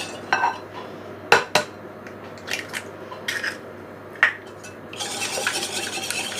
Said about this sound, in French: On fouette.